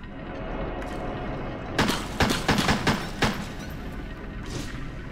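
A burst of gunfire from shooting in the horror game Crow Country, several sharp shots clustered over about a second and a half with a final lone report, loud against a steady ambient background.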